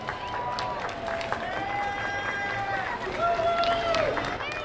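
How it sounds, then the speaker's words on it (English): Spectators at the Tracy holiday parade applaud a passing girls' group, with a steady wash of clapping mixed with shouts and whoops from a nearby crowd. "Give them a big round of applause"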